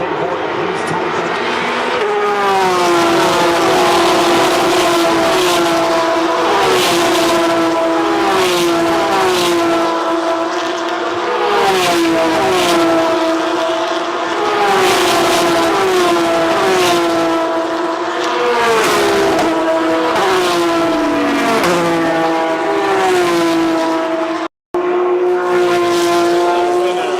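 Formula 1 race cars on the final lap at Monza, loud high-pitched engines screaming past one after another with shifting pitch sweeps and occasional tyre squeal, broken by a brief dropout near the end.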